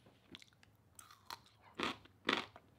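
A few crisp, close crunching bites into a pickle followed by chewing, getting louder with each bite, in a quiet room with no talk.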